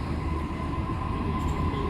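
A train stands at platform 2 of Bankstown station, giving off a steady low rumble with a constant electric hum, close and unbroken for two seconds.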